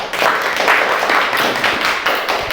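A classroom bursts into sustained applause, many hands clapping at once in a dense, uneven patter that holds steady throughout before cutting off at the end.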